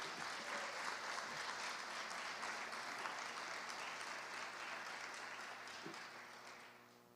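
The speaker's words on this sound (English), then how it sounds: "Please give a round of applause to the Apex Award winner for Community Partner of the Year," An audience at a school district awards ceremony claps in a full, sustained burst of applause that holds steady and then tapers off toward the end.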